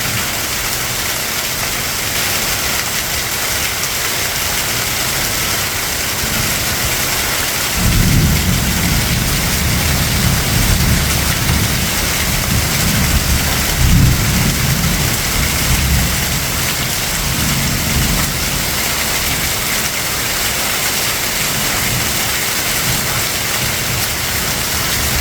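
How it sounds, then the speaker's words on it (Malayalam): Heavy, unexpected rain pours down in the eastern region around Pathanapuram, a loud constant roar on surfaces, while deep rolling thunder swells in through the middle and fades again. "എന്തായാലും പ്രതീക്ഷിക്കാതെ എത്തിയ മഴ ആശ്വാസമായി."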